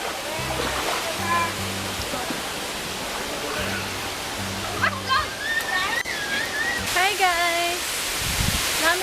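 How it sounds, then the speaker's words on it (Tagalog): A waterfall near a lake at Rock Island roars with a constant, loud rush of water, while people talk and call out over it. "As in, there are so many falls around"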